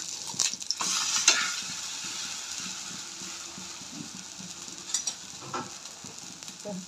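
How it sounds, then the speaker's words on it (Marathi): Uttapam batter poured into a hot oiled pan, a bright hiss flaring up at first, then settling into a lighter sizzle with occasional crackles and utensil taps. "थोडंसं तेल घालूया आणि उत्तप्पा ओतून घेऊया"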